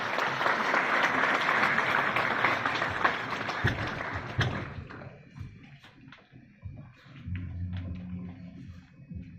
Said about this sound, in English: Please welcome, with a huge round of applause, Master Tanmay Bakshi.